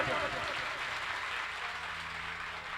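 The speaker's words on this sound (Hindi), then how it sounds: "और अगर आप सभी को कथा अच्छी लग रही हो तो तालियां बजाएं" Audience applause at a Hindi religious storytelling gathering, steady dense clapping filling the hall for a few seconds, fairly even in loudness throughout.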